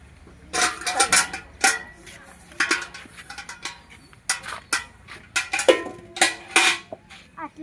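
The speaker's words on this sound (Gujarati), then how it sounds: "હું વાસણ કરવા બેઠું છું." Dishes being washed by hand, with repeated close clinks and clatters of metal pots and utensils knocking together in irregular bursts, with quiet gaps between them.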